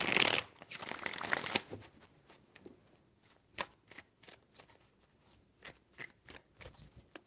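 A loud riffle of shuffling tarot cards opens, followed by a series of quieter, irregular card snaps and taps, close and with no talking.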